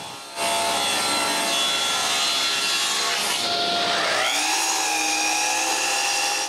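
A power saw, likely a table saw, rips through a wood panel with a loud, continuous whining cut that starts abruptly and shifts pitch partway through as the blade works the piece.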